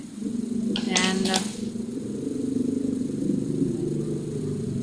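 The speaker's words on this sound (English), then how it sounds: "That's a big exhaust there." A motorcycle with a big, loud exhaust passes close by, and its engine drone swells and then carries on. A person talks over it.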